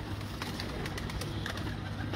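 Sakhi pigeons coo in a loft, a steady low murmuring of birds with faint scattered calls, continuous and fairly close throughout.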